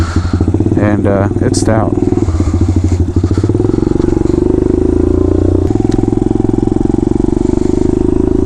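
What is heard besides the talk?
Kawasaki KLX 110 pit bike with 143cc big bore kit running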